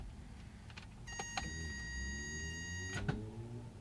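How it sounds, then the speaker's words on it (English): A BMW E21 320i starter engages without cranking the engine: a steady electric whine runs for about two seconds, framed by sharp clicks near its start and end, with no engine turning over. "There you hear the starter engaging, but it never fully turns the motor."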